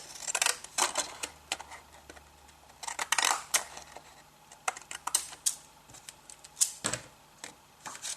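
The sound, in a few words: pinking shears cutting the edge of a paper envelope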